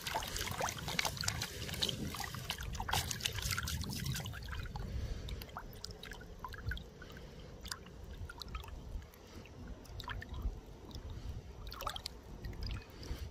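Water sloshes and trickles as it swirls in a gold pan during sample panning outdoors, soft splashes and dribbles coming in uneven waves, close but faint, with faint wind noise underneath and no speech.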